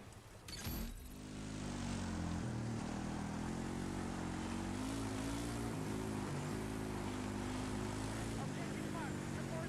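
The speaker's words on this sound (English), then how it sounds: "There's a hostile helicopter operating south of your current position." A hostile helicopter in the video game Battlefield 6 gives a loud, steady engine and rotor drone that holds for the whole stretch after a brief opening.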